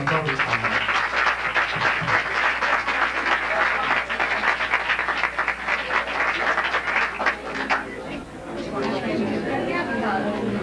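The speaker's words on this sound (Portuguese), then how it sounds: "eu peço uma salva de palmas" Audience applause for a lecturer in an auditorium, dense steady clapping that fades out near the end, with some chatter around it.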